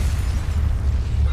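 An explosion in the video game Resident Evil Revelations 2 gives a loud, deep boom that rolls on as a steady low rumble for over a second, with no voices over it.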